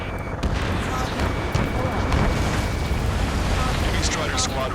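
Gunfire and explosions rumble through Ace Combat 7: Skies Unknown during a city battle under martial law, with jets overhead; a dense, continuous low roar with scattered bursts and booms, loud and steady throughout.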